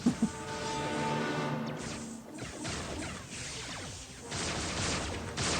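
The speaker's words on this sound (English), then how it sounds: "Explosions everywhere!" Dense, chaotic blasts and crashes from the Doctor Who Adventure Games episode The Gunpowder Plot pile up continuously, loud and close, with booming impacts layered over a busy rumbling background.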